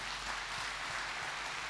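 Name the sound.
congregation applauding in church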